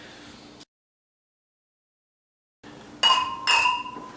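Two glasses of beer clink together in a toast, two bright, close ringing taps about half a second apart after a stretch of silence, over faint room noise.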